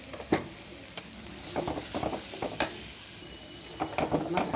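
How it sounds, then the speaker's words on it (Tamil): Freshly ground masala sautés in oil for mutton kuzhambu, a soft low sizzle broken by intermittent scraping and stirring clinks of a spoon against the pan, fairly quiet and close. "இப்போ பார்த்திங்கன்னா ஃப்ரெஷ்ஷாக அரைச்ச மசாலாவை இதில் நம்ம சேர்த்து வதக்கிக்கலாம்"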